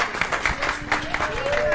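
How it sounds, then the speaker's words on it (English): An audience applauds for Nico at a City of Light gathering in Atlanta: a steady wash of clapping with a voice speaking over it throughout. "everybody give Nico a round of applause"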